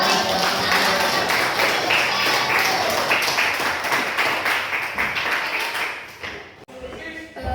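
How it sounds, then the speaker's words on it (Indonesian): A class of pupils clapping their hands together in a classroom at the close of a teacher's lesson, a dense sustained patter of many hands that fades out toward the end. "Tepuk tangan."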